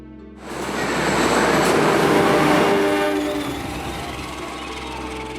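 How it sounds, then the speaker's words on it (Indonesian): A passenger train's iron wheels rumble over rails, a loud roar that swells in quickly, holds with rhythmic clatter and faint horn-like tones, then eases slightly. "Suara roda besi menderu di atas rel, mengantarkanku pada perjalanan panjang menelusuri jejak budaya yang abadi."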